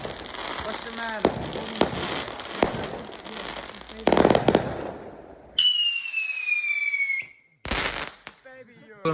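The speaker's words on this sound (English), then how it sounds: "Here we have the Delta Force firework." Delta Force fireworks go off outdoors at a display: rapid crackling bursts and bangs, then a loud rising whistle and another sharp burst, with people talking and reacting throughout.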